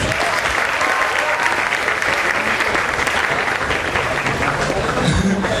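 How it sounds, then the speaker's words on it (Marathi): Loud, sustained applause from a festival audience for all the performers, thick and even claps filling the whole stretch with a slight crowd murmur underneath. "सर्व कलाकारांसाठी एकदा जोरदार टाळ्या होऊन जाऊ देत प्लीज."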